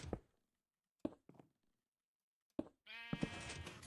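A few soft thuds and knocks in near silence, then a sheep bleats loudly up close at the end, in Minecraft.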